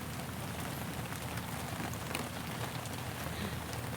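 Rain falls outdoors on a farm in a steady, dense patter on surfaces, constant and fairly close with no voices.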